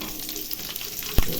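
Green chillies fry in hot oil for chicken biryani, a steady close sizzle with a brief knock of a utensil near the end.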